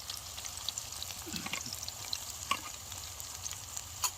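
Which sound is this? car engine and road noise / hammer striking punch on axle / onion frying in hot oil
onion frying in hot oil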